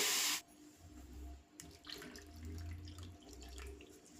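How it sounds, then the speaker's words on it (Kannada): Water pours into a bowl of semolina (rava) in a soft, intermittent trickle, faint and close, following a brief louder splash at the start. "ನಾನಿಲ್ಲಿ ರವೆ ಮುಳುಗುವಷ್ಟು ನಾನಿಲ್ಲಿ ಒಂದು ಕಪ್ ಆಗುವಷ್ಟು ನಾನಿಲ್ಲಿ ನೀರನ್ನು ಹಾಕ್ಕೊಳ್ತಾ ಇದ್ದೀನಿ"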